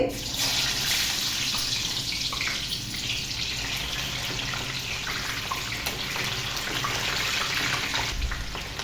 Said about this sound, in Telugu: ఇదే ఆయిల్లో ఒక పెద్ద సైజు ఉల్లిపాయని ఈ విధంగా కట్ చేసుకొని వేయించుకోవాలి.